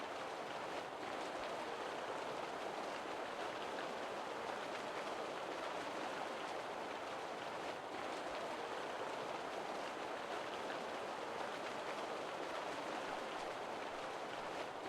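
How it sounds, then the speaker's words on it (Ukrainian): Steady, even hiss of rainfall and running water in a video game, constant throughout with no voices. "дощ, вода."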